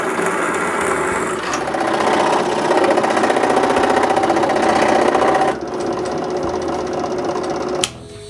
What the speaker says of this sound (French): Pour fixer la jig à mon établi, je perce 2 trous distancés de mes trous d'établi